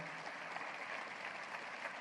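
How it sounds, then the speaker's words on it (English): Crowd at a university State of the University address gives a round of applause, a continuous wash of many hands clapping, steady and somewhat distant throughout. "Let's give them a hearty round of applause."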